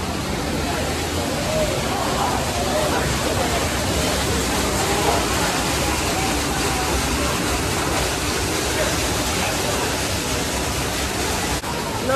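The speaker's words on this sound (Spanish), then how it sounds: "Mira, hasta tienen una fuente aquí," An indoor water fountain at Chelsea Market splashes steadily, a dense, continuous wash of falling water heard close up, with a faint murmur of a crowd underneath.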